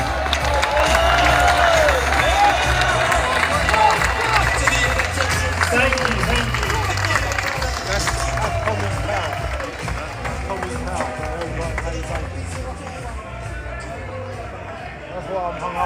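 A crowd at an outdoor demonstration cheers and applauds loudly, with whistles and shouting in a steady roar that slowly eases off, voices mixed into the din.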